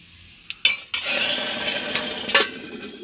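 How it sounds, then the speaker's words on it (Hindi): A few metallic clinks of a pan and spoon, then a loud sizzle as garlic, chili and cumin hit hot oil to temper lentils, hissing steadily, with a stir near the end. "अब दाल छौंकन लगा लेते हैं"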